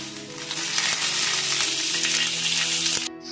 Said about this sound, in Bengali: পেঁয়াজটা একটু ভাজা ভাজা হয়ে গেছে,